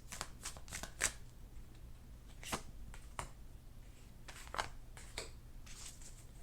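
Tarot cards being shuffled and pulled, with soft riffling swishes and crisp snaps of card stock at irregular intervals, close and faint against a quiet background, no talking.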